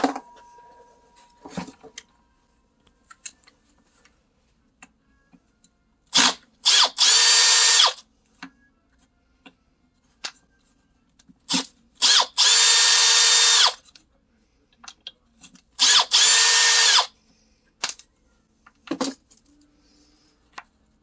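A screwdriver works parts off an Echo HC 2020 hedge trimmer during repair, giving scattered metallic clicks and clatter with three bursts of harsh, loud whirring close by, and no talking.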